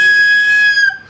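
A whistle blown very hard gives one shrill, squeaky blast, like a train whistle, lasting about a second alone before cutting off.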